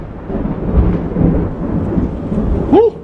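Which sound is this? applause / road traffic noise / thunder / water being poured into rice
thunder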